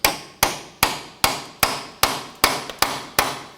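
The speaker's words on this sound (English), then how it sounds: "I'm going to use our little chisel here." Nine sharp metal-on-metal hammer blows strike a small chisel to split a ball joint from the steering knuckle of a 2015-2024 Nissan Murano, evenly spaced and close, each ringing out briefly alone.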